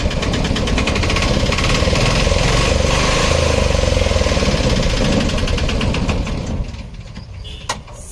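2013 Piaggio Ape auto rickshaw engine running close by, a loud rattling, knocking small-engine chatter that drops off near the end.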